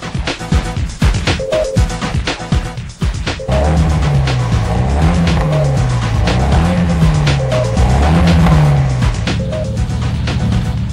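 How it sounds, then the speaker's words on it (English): A loud, modified Nissan Silvia S15 rally car engine revs and roars with crackling exhaust pops, the pitch rising and falling repeatedly as it accelerates. "listen to the tunes of this exhaust"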